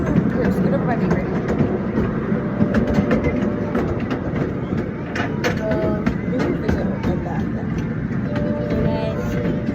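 A zoo train rolls along rails with a steady rumble and rattle of wagons close by, and children and adults talk over the noise throughout.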